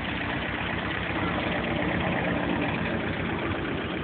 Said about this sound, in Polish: Co tam jedzie? Traktor!